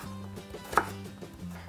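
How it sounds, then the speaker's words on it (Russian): A knife dices potatoes into small cubes on a cutting board, a few quick chops with one sharper knock in the middle, close and quiet. "Картофель нарезаю мелким кубиком"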